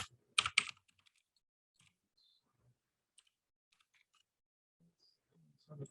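A few quick, crisp keystrokes on a computer keyboard while an email address is typed, followed by sparse, faint clicks in a quiet room.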